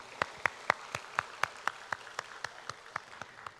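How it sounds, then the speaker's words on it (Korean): A church congregation at Sunday worship claps in praise, a slow, even beat of about fifteen sharp unison claps, moderately quiet and without voices. "우리 하나님께 영광의 박수를 올리도록 하겠습니다."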